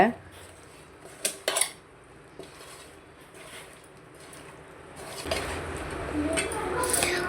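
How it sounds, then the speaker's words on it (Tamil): Cauliflower is tossed with masala in a bowl for cauliflower 65, giving a few sharp clinks of a utensil against the bowl, then a quieter stretch and a rising wet scraping and rustle of mixing. "இப்போது இந்த மசாலா எல்லா காலிஃப்ளவர்லேயும் படுற மாதிரி நல்லா மிக்ஸ் பண்ணி விடுங்க"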